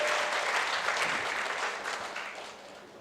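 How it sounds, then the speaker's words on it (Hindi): Audience applause at the Pharmacon 2022 conference, a dense wash of clapping that starts full and gradually thins and fades toward the end, with no talking over it. "एक बार जोरदार तालियां कोविड के काम के लिए, आप लोगों के लिए"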